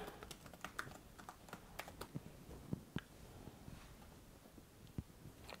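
Someone types a password on a computer keyboard during a TrueNAS SCALE installation, a quick run of light, uneven key clicks that thins into sparser taps, close and fairly quiet.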